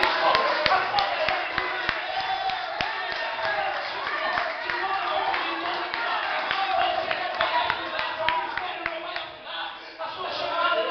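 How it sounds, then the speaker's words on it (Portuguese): A church congregation claps hands together during a service, a steady crowd patter sustained for about eleven seconds with voices mixed in. "aplauda Jesus com as palmas"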